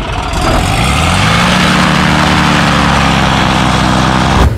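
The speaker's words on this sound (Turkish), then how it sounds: "Şimdi motor çalıştıracaklar." An ultralight aircraft engine starts up loud and close. It catches quickly, then holds a steady buzzing drone that rises slightly in pitch before it suddenly cuts off.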